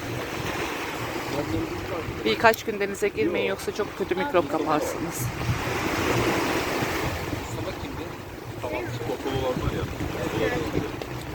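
Waves wash steadily along the shore at Amasra, Bartın, after a flood, under gusty wind, with a person talking over the surf throughout.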